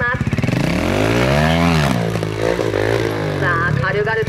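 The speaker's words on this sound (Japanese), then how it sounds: "そのパワフルなこのモンテサのマシンのエンジンサウンドがこの自然の地形の中で響いていく" Montesa trial motorcycle engine revving hard at the FIM Trial GP Japan, a loud continuous rising and falling whine as the rider climbs natural terrain, with commentary over it throughout.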